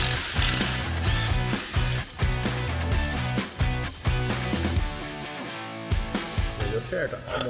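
A hand tool compresses a car suspension spring during a wheel and suspension upgrade, giving repeated metallic ratcheting clicks and clanks in uneven bursts, close by, with someone talking at times.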